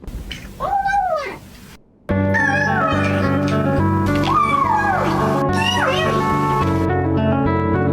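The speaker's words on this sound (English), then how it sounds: "It's a kitty." A cat's meow rises and falls several times over a steady musical backing, fairly loud and clear.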